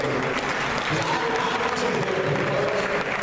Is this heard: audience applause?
yes